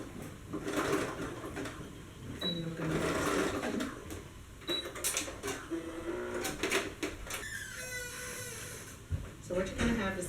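A sewing machine stitching a seam on a dance crop top, running in bursts of rapid whirring stitches with pauses, fairly close, with some voice and handling noise around it.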